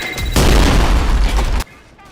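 A grenade detonates in the video game Trepang2 with a loud, close, booming blast that fills the mix for over a second and then cuts off sharply into a quiet tail.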